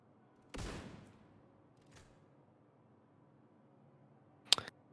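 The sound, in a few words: gunfire from The Division 2 video game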